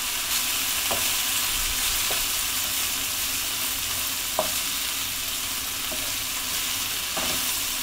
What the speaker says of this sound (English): Okay, back to the veg. Give it a little stir.